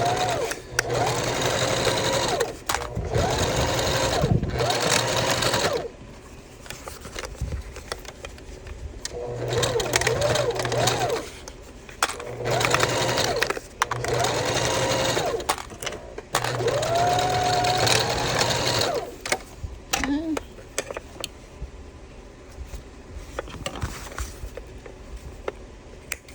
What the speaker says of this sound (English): we're over here at the sewing machine and we're just gonna baste this top edge closed